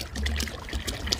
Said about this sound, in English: So I'm gonna go ahead and get water into here before it gets too hot.